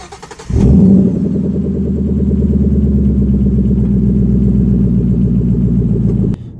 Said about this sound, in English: The sound of a V8 turning on does not beat it.